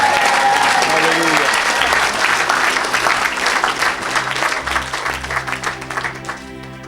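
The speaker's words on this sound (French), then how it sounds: "Donne un bon amen et acclame pour Jésus." A church crowd applauds and cheers for Jesus, dense clapping with whoops that is loud at first and then thins out, while a voice carries on over the noise.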